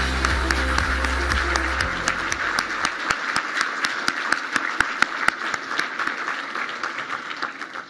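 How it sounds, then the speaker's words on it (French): Loud, sustained applause from guests at a foundation's annual gala dinner, a dense wash of clapping with some low rumble at first, continuing steadily without speech. "On applaudit très fort."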